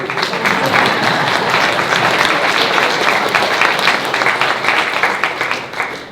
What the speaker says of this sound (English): There's no need for clapping, but go for it.